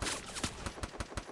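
Rapid gunfire bursts in a Free Fire match, a string of sharp close shots with rhythmic cracks spaced under a second apart, loud and punchy without talk.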